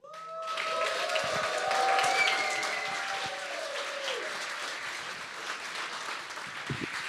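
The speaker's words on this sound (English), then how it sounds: "Please give a big round of applause to the ETHBerlin³ team." An audience at a hackathon closing ceremony applauds the ETHBerlin³ team, a dense crowd of clapping swelling quickly, then tapering slightly while staying sustained, with a few tonal stage sounds over it.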